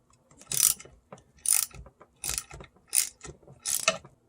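A ratchet working bolts loose on a Yamaha 90hp outboard, several short bursts of quick metallic clicking separated by brief pauses, close and clear with no talking.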